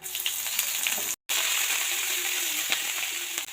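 Whole spices and ginger paste sizzle and crackle loudly in hot oil for a winter mixed vegetable curry, a steady dense frying hiss broken by one brief silent gap, with no talking.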